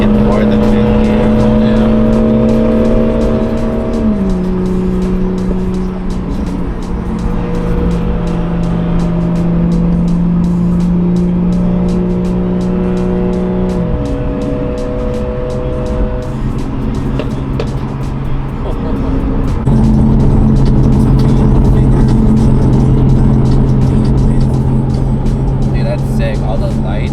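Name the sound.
car driving at a touge rally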